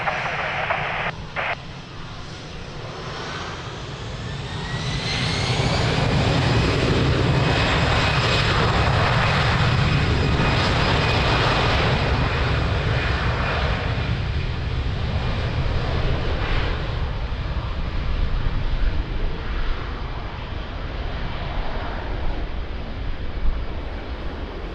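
An airliner takes off from runway 02 at Lisbon Airport, its engines spooling up into a loud, sustained roar that holds steady and close through the whole takeoff run.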